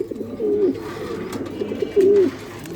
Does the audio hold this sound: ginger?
no